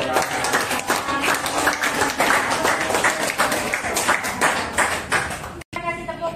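A class claps for a group presentation in a physics lesson, with dense, loud, continuous clapping from many students and talking mixed in, ending abruptly before a brief quieter stretch.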